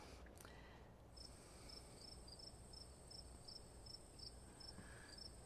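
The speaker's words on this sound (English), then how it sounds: "let's go ahead and find afternoon crickets" A recording of afternoon crickets plays back with steady, evenly spaced chirps, faint and continuous over a low hiss.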